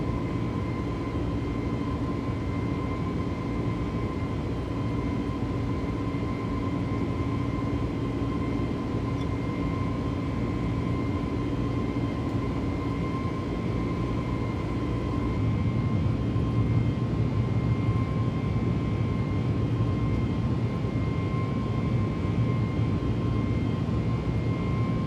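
In Microsoft Flight Simulator 2024, an airliner climbs out with its jet engines producing a constant, loud cabin drone and steady tones that swell slightly partway through, with no voices.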